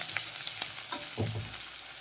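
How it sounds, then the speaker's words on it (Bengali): Garlic paste frying in a pan for a chickpea and potato ghugni, a faint, steady sizzle broken by a few stirring scrapes and soft clatters, close and quiet. "এবার আমি রসুন বাটাটা দিয়ে দিলাম"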